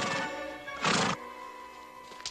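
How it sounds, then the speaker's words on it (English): Horse neighing nearby, a loud whinny with a short burst of breathy noise midway, then quieter trailing sounds. "Sam, I raised that horse from just a colt."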